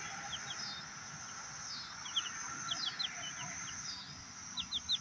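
Outdoors on a farm, a rooster gives scattered soft clucks in small bursts, a few slightly louder ones near the end, over a constant low background with no voices.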